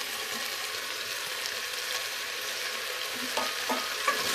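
Carrot pieces and cauliflower florets sautéing in a pan for homemade pav bhaji, giving a steady close sizzle with a few soft stirring scrapes near the end and no talking.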